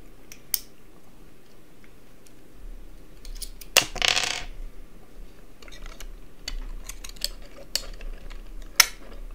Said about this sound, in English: first we'll take off the keycaps so that we could unscrew the keyboard